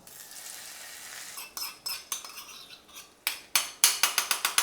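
Cumin seeds spluttering in hot oil for egg white korma: a quiet sizzle at first, then a run of sharp popping crackles that grows louder and quicker toward the end, with no talking.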